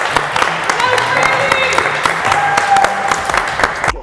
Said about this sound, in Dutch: Applaus voor jezelf.